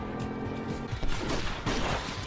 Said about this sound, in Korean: 프로포즈를 위해 준비했던 폭죽을 쏘며 달려오는 마이크.